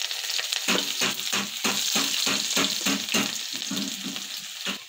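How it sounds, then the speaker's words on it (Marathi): Green chillies and chopped onion sautéing in a hot pan, a close crackling fry broken by a steady run of rhythmic scraping stir strokes, with no talk. "मिरची कांदा छान शिजू देऊ।"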